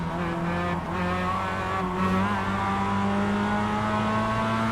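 Mazda MX-5 race cars in iRacing's Global MX-5 Cup, engines droning loud and steady with rising and falling pitch as the cars battle close together, with a brief tyre squeal early on.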